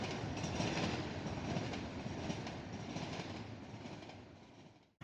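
A train rumbles past on the tracks, a steady, fairly quiet roar with faint rhythmic clatter, fading slightly toward the end.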